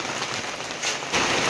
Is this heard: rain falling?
yes